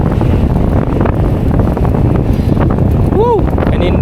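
Strong wind roars against the microphone while biking across the CCLEX bridge in Cebu, a loud, continuous buffeting rush that fills the whole stretch, broken near the end by a brief rising-and-falling whistle.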